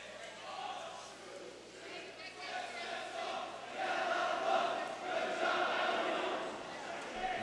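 A high school boys' varsity swim team chants a rhythmic "swim, swim, swim" cheer at an indoor meet, a crowd of voices swelling louder midway and holding over a reverberant background.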